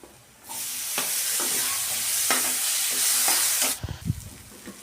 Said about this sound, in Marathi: टोमॅटो पण मसाल्यांमध्ये व्यवस्थित परतून झाले